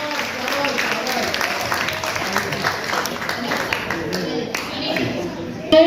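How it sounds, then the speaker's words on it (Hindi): Audience in a hall applauding a child's recitation at a baitbazi poetry contest in Aurangabad, a dense steady patter of many hands running through the whole stretch with voices mixed in. "जोरदार तालियां बजाइए इस बच्चे के लिए"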